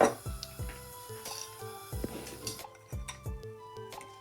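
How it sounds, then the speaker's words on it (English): A fork beats eggs in a bowl, tapping out quick rhythmic clinks against the sides, close and fairly soft, with no talking. "Taking the fork and beating the eggs."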